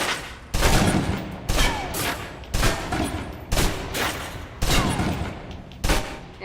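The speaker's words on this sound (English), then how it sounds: "Now, let's move on to the submachine gun. Now let's empty the clip." Submachine gun in the video game Alpha Protocol emptying a full magazine in repeated bursts, roughly one every second, each a loud close rattle with no talk over it.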